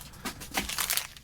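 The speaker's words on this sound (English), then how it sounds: "Let's get into our accessory pack." MRE accessory pack packaging being opened, with crinkly plastic crackling and rustling in several close bursts over about a second.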